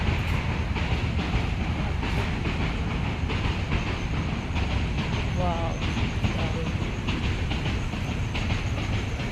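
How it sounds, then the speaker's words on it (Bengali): A train rumbles past with steady clatter and a few squealing wheel sounds, continuous and fairly close, with voices talking over it. "এত মনে হচ্ছে ট্রেন যাচ্ছে"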